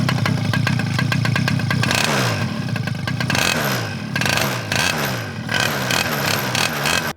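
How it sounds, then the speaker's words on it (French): A motocross bike with a balloon tied to its exhaust revs hard and close, its loud crackling engine rising and falling through repeated throttle blips with no voices. "je vais attacher ce ballon au pot d'échappement et il y a un mythe qui dit que c'est censé faire un bruit totalement chelou"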